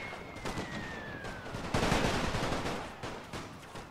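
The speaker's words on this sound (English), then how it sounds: "The machine guns are firing" Rapid bursts of machine gun fire crackle in the First World War video game The Great War, dense overlapping shots close and loud, with a whistling tone sliding down early on.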